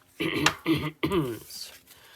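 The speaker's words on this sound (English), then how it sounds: "Pardon my cough." A single person coughs and clears their throat in a few rough close bursts during a tabletop game setup session, alone without other talk.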